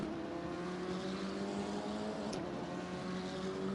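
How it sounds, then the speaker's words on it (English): Race cars at the start at Brands Hatch drone at a steady distance, a sustained layered engine hum, faint and fairly even throughout. "Let's have a listen to these cars."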